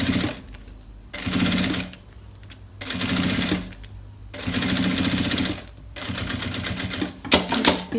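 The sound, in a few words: sewing machine stitching a wallet lining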